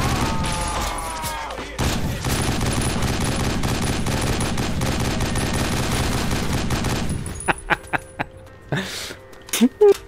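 Sustained heavy gunfire in 50 Cent: Blood on the Sand, rapid automatic bursts pounding loud and close for several seconds, then giving way to sparse single shots and clatter, with voices heard at times.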